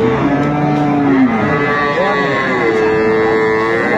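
A dairy cow with her calf at the Aftabganj cattle market lets out long, loud, drawn-out moos close by, with a steady murmur of the crowded market underneath.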